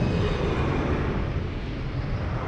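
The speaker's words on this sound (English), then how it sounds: "Nice low takeoff there." A TAP Express Embraer E195 jet taking off at Lisbon Airport, a loud, steady broadband engine roar that holds strong and eases slightly as the aircraft climbs away.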